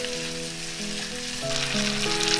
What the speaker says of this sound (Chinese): 再把冬菇加进来